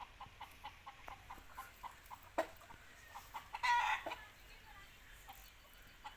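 A rooster clucks close by in short bursts over a quiet background, with one louder squawk partway through.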